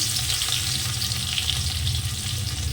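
Chopped garlic sizzling in hot oil in a pan, with radhuni seeds added as tempering. The frying hiss runs loud, close and steady throughout, with no talk over it.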